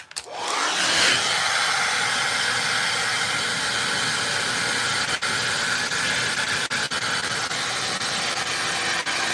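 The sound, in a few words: hair dryer heating a plastic figure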